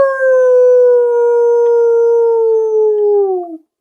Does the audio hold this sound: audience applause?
no